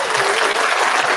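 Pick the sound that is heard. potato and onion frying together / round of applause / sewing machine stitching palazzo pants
round of applause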